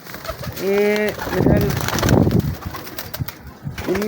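Caught pigeons coo at close range, one clear drawn-out coo followed by rustling and fluttering, with someone speaking intermittently nearby.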